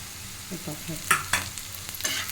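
Chili-garlic paste sautéed with onions in hot oil for a rustic kanda thecha, a few soft stirring scrapes over a low sizzle, brief and fairly quiet, with no talking.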